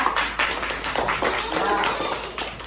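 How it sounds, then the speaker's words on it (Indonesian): Classroom audience claps for a presenting student group, a short burst of hand clapping with overlapping voices and talk running underneath. "tepuk tangan untuk kelompok 2"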